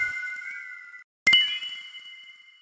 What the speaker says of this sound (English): It's also like an Ableton preset called Brush Bell Hits Bells